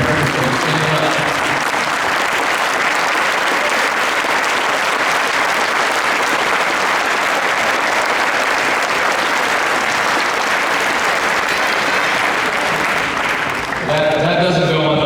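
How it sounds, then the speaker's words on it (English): Sustained loud audience applause honoring the Polk football parent committee at a team gathering, steady clapping filling the room for about fourteen seconds before fading, with some voices mixed in at the end. "Clap for the parents."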